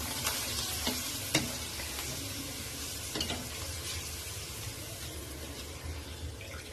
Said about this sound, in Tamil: அப்பளம் வந்து இவ்வளோ பொரிச்சிருக்கேன்